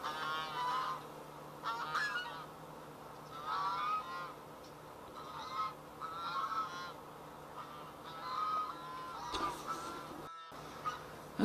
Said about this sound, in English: There's the two geese, always got their nose in everything.